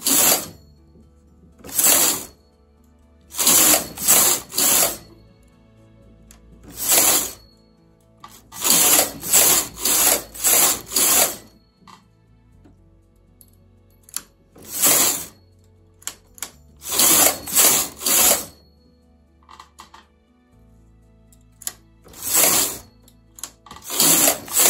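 A domestic knitting machine doing partial knitting with elastic on four needles, its carriage swept back and forth in loud, sharp clattering runs separated by quiet pauses.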